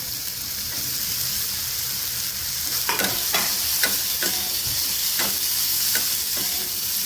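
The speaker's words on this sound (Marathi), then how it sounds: "तेलावरती चांगलं परतून घेऊ।" Vegetables for Maggi noodles, including peas and carrots, being sautéed in hot oil in a pan, with a steady close sizzle and several sharp scraping stirs of a spoon.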